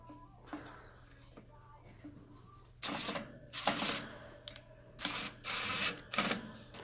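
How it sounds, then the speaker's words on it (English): A drywall screw is driven into a wood end panel with a power driver, giving several short buzzing bursts of varying length close by, after quieter handling noises and soft clicks. "I'm going to run my drywall screw into this wood end panel, just so I have a pilot hole"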